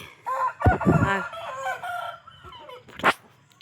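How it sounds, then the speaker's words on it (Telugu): A rooster crows nearby in one drawn-out, wavering call, followed by a few shorter squawks and a brief sharp noise near the end. "మరి పుంజు చూడండి"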